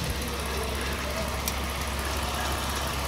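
A gasoline V6 in a Dodge Ram pickup, noted as having a loose-sounding engine, runs at a steady idle up close, a constant low rumble throughout with a voice faintly present.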